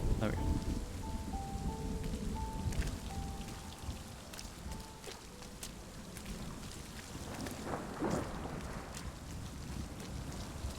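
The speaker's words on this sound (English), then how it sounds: "The rain is kind of cool." Soft, steady rain patters across a surface in the RiME video game, a faint continuous hiss with a quiet breezy wash behind it and a few brief tones drifting through early on.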